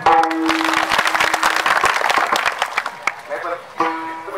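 Audience clapping at a Marathi kirtan, a dense burst of many hands from the start that thins out after about three seconds. A voice comes through with sustained tones over the clapping near the start and again at the end.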